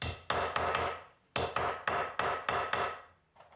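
A hammer drives wooden dowels into the glued joints of organ casework, giving two quick bursts of sharp, close wooden knocks, about three blows each, then a pause and another run of five or six strikes.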